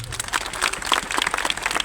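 A church congregation at a youth conference claps together, giving a dense, steady patter of applause from many hands in a large room.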